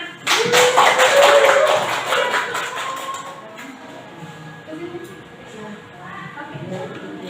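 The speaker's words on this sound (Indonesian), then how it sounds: "Ayo tepuk tangannya mana?" A seated audience at a teachers' training session gives a short burst of clapping that fades after a few seconds, leaving a quiet room with some speech and light movement.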